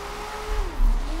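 Rear-wheel-drive Lego car in Forza Horizon 4 drifts on a handbrake pull, its engine tone dipping and climbing as revs shift, with a brief low thump, heard briefly and up close.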